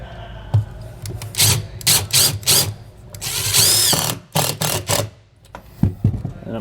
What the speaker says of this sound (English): So I'm just taking some wood screws here and mounting this into place.